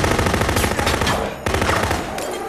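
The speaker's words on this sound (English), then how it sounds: "Mr. Decker, there are people in the school with guns." Rapid machine-gun fire in a movie trailer, loud and continuous with dense repeated bursts and a brief break in the middle.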